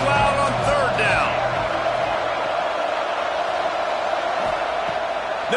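Stadium crowd noise in a Madden football video game, a steady loud roar building on third down, with a voice calling out briefly near the start.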